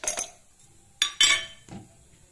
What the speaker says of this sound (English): add some ice cubes